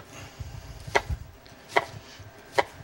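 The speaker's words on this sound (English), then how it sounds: "1 onion, I'm going to use half the onion. Roughly chop it." Half an onion is roughly chopped for stock on a board, three sharp knife strikes landing at uneven intervals, close and distinct over a quiet room.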